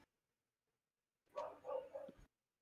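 Dogs bark in three quick, fairly close bursts over about a second, standing alone after a stretch of silence.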